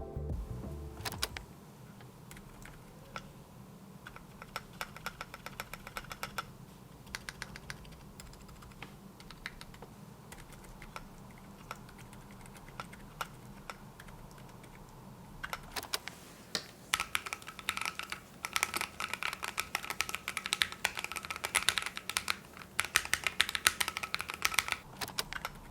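A mechanical keyboard fitted with Akko Silent Penguin switches is typed on in bursts, soft muted clacks at a fast irregular rhythm, close and fairly quiet, growing busier toward the end.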